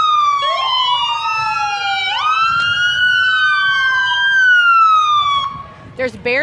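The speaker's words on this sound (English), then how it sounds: "Oh, the sirens." Police vehicle sirens wail and yelp loudly at a small-town Main Street school parade in McPherson, Kansas, the pitch sweeping up and down steadily for several seconds before a brief burst of yelping near the end.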